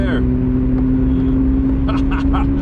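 A rotary-engine car accelerates hard in a neck-and-neck road race, its loud, steady droning engine note holding close throughout while voices talk over it.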